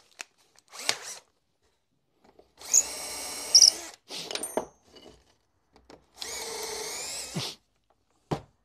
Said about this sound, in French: Je vais prendre, tant pis, un forêt en métal pour percer parce que je n'ai pas d'autre.